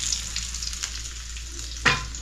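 Pomfret fish frying in a pan, a steady broadband sizzle throughout with a brief louder spatter near the end, no voices.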